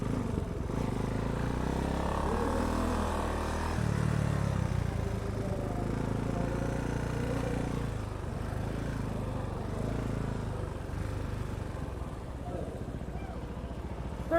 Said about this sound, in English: Very nimble bike. Once you get the throttle consistently, it's really easy to dodge cones.